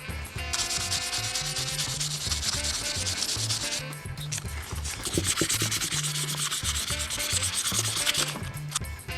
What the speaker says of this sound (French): Et quand on ponce, il faut le faire tout le temps dans le même sens.